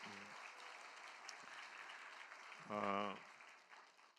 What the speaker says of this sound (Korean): 한 번 더 응원하며 박수를 축복하겠습니다